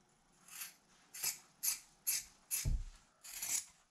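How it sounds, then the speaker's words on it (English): Scissors snip relief cuts into upholstery fabric on an RV valance, six crisp, close cuts in a steady rhythm with nobody talking. "I'm just going to make some relief cuts in here."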